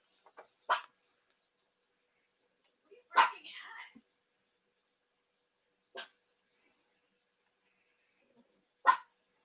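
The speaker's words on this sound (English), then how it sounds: "She's probably barking because she misses me." A dog gives a few sharp, separate barks spaced apart, one followed by a short whine-like trailing sound, with silence between.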